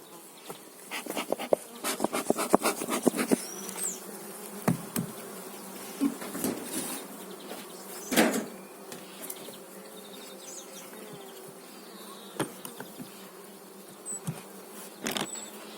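Honey bees buzz from a freshly opened hive during a colony split, a dense steady hum with sharp close passes of individual bees and occasional knocks of frames, with no voices.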